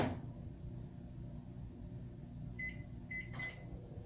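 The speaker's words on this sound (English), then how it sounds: "I'm going to put it in the microwave" A microwave oven warming milk hums steadily close by, a low mechanical drone with a few short electronic beeps near the end, no voices.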